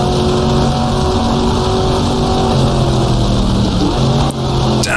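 Engine of a 1966 sportscar in the GTR2 racing game at Monza, a steady loud drone with engine tones dropping in pitch near the end as it downshifts to third gear.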